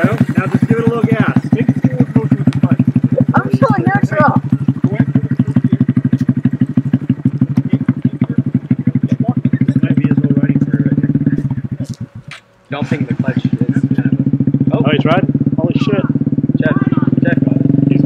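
Honda Grom motorcycle engine chugging close up in a rapid, throbbing idle that rises as it is given a little gas, cutting out briefly before picking up again, with a voice talking over it.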